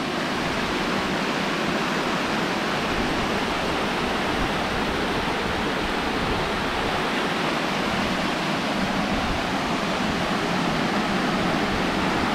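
Panchalinga waterfall in the Thirumoorthy hills, a steady, dense roar of falling water that stays constant and fairly loud throughout, with no voices.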